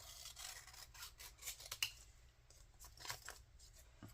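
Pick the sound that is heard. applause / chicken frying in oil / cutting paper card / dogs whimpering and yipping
cutting paper card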